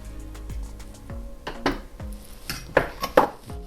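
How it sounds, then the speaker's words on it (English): A utensil stirs chilli con carne in a Thermomix TM6 mixing bowl. Several short scrapes and metallic clinks come close together over a faint low hum. "Again, just give it a little bit of a stir."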